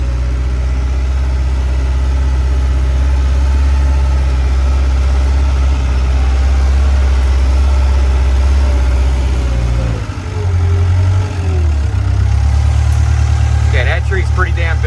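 A skid steer loader's engine runs loud and close at a steady, raised idle, a deep continuous rumble that dips briefly around two-thirds through before settling back to its constant drone.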